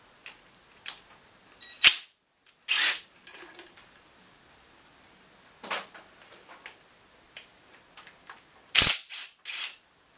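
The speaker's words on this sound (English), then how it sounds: "You don't need a rattle gun, but it certainly helps." An impact wrench working bolts on an FJ motor fires in short, loud bursts of rapid hammering, separated by quiet gaps and lighter clinks of tools.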